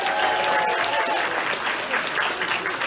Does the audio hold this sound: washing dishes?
no